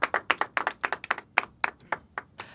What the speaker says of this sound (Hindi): एक बार आपकी भरपूर तालियां हो जाएं।